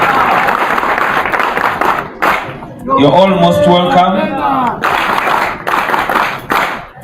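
An audience claps at a graduation ceremony in bursts of dense, close applause. A voice breaks in between the bursts.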